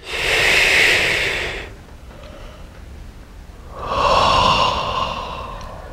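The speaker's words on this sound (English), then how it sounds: "Hands down, nice deep breath." Two slow, deep breaths are taken close to the microphone during a group tapping session, each a soft, airy rush of about two seconds with a quiet pause between them.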